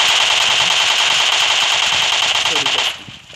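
Rapid automatic AUG rifle fire in the PUBG Mobile video game, a loud, dense, continuous burst lasting nearly three seconds before stopping abruptly.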